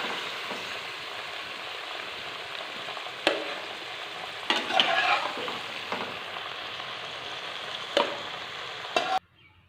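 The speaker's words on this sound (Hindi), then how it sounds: "तो शिमला मिर्च हमने फ्राई किया है, इसको तकरीबन 3 से 4 मिनट फ्राई किया है।" Shimla mirch (capsicum) frying in a karahi, a steady close sizzle with occasional sharp clicks and stirring scrapes, no talk, cutting off near the end.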